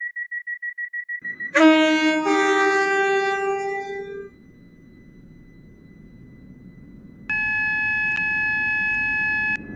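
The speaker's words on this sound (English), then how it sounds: "This train has four coaches." Rapid electronic beeps give way to a loud synthetic horn blast and a low rumbling hum of a moving four-coach train in the Roblox game Stepford County Railway, then a sustained chime-like tone.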